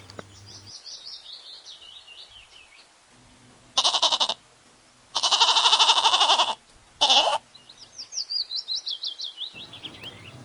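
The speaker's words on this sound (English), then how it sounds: "G for goat." Goat bleats in three loud, close bursts, one short, one long and wavering, one short again, set against birds chirping before and after.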